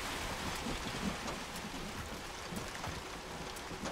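Steady rain patters in the game Hunt: Showdown, a soft continuous wash of drops with a faint low rumble, heard alone without voices.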